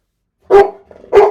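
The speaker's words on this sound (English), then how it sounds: "Chat, we're working on little woofs for Bodhi." Two loud barks from Bodhi, a dog in training, close to the mic: a sharp woof, a softer follow-on sound, then a second bark after a short gap.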